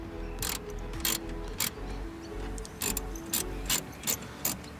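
A ratchet socket wrench works on a tail light fastener of a Nissan S15, giving bursts of sharp, rapid clicking in about eight short strokes over a steady background hum, fairly close.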